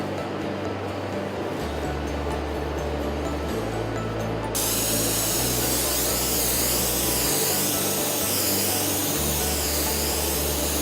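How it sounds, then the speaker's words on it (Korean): A spray gun applies primer surfacer to a car body panel, laying down a steady loud broadband hiss with a compressor-like hum beneath, which grows brighter and stronger partway through and holds continuously without any talk. "프라이머 서페이서를 준비하고 송진포로 도장면에 묻은 미세먼지를 깨끗하게 제거한 후 2에서 3회 도장합니다"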